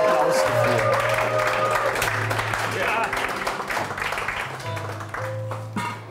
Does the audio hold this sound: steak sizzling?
no